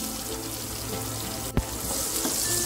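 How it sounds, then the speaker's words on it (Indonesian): Finely sliced bird's eye chilies sauté in a pan with softened shallots and garlic, giving a continuous close sizzle with one brief clack partway through. "ditumis cabenya sampai layu"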